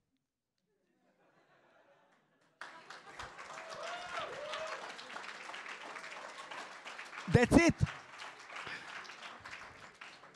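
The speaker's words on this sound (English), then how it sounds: "If you're clapping hands now" Audience clapping at a speech event, breaking out suddenly after a short quiet lead-in and holding steady, with laughter, chatter and a brief loud burst near the end, a voice speaking over it.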